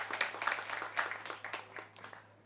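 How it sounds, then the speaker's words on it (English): An audience claps at an evening of traditional Irish music in Fintona, County Tyrone, with scattered, uneven claps that fade over a couple of seconds and a steady low hum underneath. "So I'd like to give them a round of applause as well"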